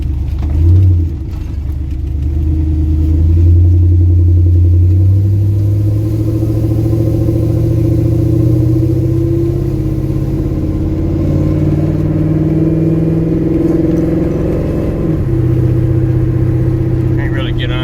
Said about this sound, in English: Just one magnaflow. Drive it down the road now, see how it sounds.